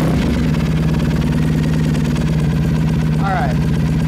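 A Triumph Thruxton motorcycle engine idles steadily with a low, even rumble, and a brief bird chirp cuts through near the end.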